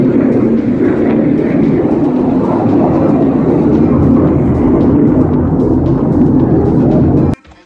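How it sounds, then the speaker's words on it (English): A big fighter jet passes overhead with a loud, steady roar for about seven seconds, then cuts off abruptly. No one speaks. "that was a big fighter jet passing by"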